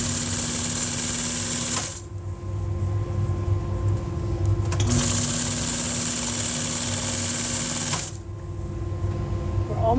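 Upholstery sewing machine fitted with a welting foot stitching rope welt cord for a chair, a steady loud mechanical whir in two long runs broken by brief pauses.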